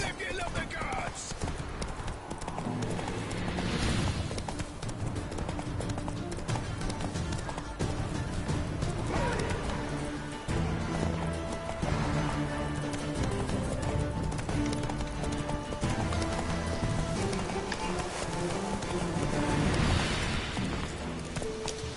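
Roach the horse gallops in The Witcher 3, rhythmic hoofbeats pounding steadily beneath a loud, dense game soundtrack and effects, with a voice speaking over the action.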